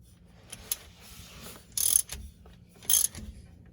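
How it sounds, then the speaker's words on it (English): Someone snugs the rear differential drain bolt on a Subaru STI with a ratchet, heard as two short, close bursts of quick clicking after a few faint knocks. "Let's go ahead and get the drain bolt back on, clean this up."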